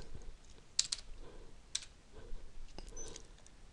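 Quiet, close computer keyboard typing into a website search box, irregular key taps in short bursts with a few sharper clicks over a faint background hum.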